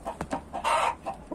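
A young rooster with uncut spurs, strong and lively, gives a series of close, clear clucks in short bursts, with one longer, louder call in the middle.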